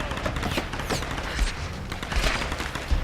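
Rapid bursts of gunfire in the Tomb Raider video game, dense repeated shots and thuds crowding the whole stretch, loud and close with no pause.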